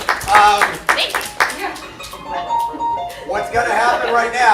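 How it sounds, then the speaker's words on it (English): An improv show audience claps in uneven bursts, with music-like tones and a voice talking over the applause. "Clap it up for them."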